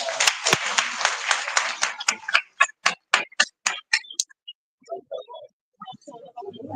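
Audience applause for panelists at a mining conference in Cape Town: a burst of dense clapping that thins into a handful of separate, rhythmic claps, then dies away as quiet voices start up in the room.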